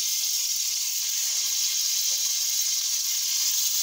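Chicken pieces sizzling in melted butter for homemade butter chicken, a steady, close, bright frying hiss that holds evenly throughout with no talking.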